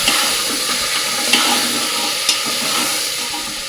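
Continuous close sizzling and crackling of mutton frying in mustard oil in a pressure cooker, with a couple of brief stirring knocks breaking the steady hiss.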